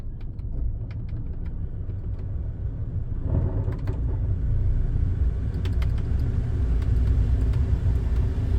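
A 2010 Nissan Cube's heater blower fan runs as a steady low whoosh inside the car, growing a little louder partway through as it is turned up, with faint clicks near the dash.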